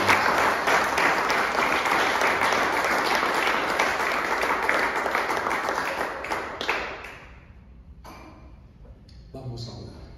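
A church congregation at a Spanish-language service breaks into loud, sustained applause that gradually thins out and fades, leaving a few last claps and a brief voice near the end.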